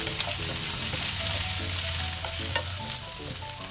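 Snap peas stir-frying in a hot pan, steady sizzling with occasional stirring scrapes and clinks, continuous and fairly loud with no talking.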